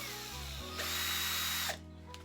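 A small motor spins a toothbrush mounted on a pair of glasses, a close high whine that starts, holds steady for about a second, then cuts off sharply.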